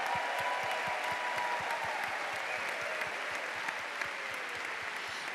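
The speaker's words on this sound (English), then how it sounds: "Can we give a round of applause for all of the former Stanford women's basketball players that are here?" A crowd at a Stanford women's basketball postgame ceremony applauds former players, a broad sustained roar of clapping with a faint whistle-like tone drifting through, holding steady throughout.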